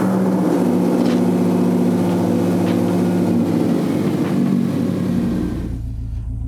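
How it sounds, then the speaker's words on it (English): An all-wheel drive Mazda Miata driven on the street, its engine droning loud and steady from inside the car with a rough, buzzing tone that settles into a lower hum at the end. "I'm gonna go ahead and street drive this here all-wheel drive Miata"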